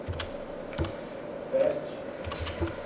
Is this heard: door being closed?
no